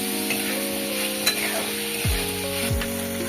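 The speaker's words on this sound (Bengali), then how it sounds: "মশলাটা আমি কষিয়ে নেব।" Crushed cloves and cinnamon sizzle in hot oil in a home kitchen pan, a continuous close frying hiss with a few clinks and knocks of the utensil, no voices.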